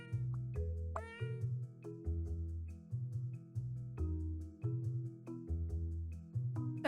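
Cats meowing in a game about organizing cats, a steady run of short repeated meows in a bouncy rhythm over a looping musical backing.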